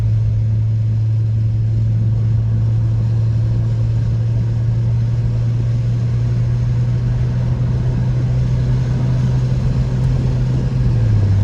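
A tuned BMW 335i accelerates hard on a back road, its engine a loud, continuous low drone that holds steady before its pitch shifts near the end.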